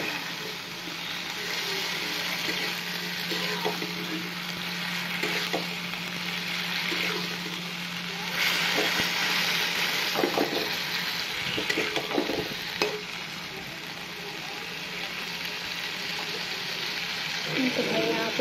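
Taro stolons and jackfruit seeds sizzle and fry steadily with spices in a pan, a continuous loud crackling hiss broken by occasional stirring scrapes, with no talking over it.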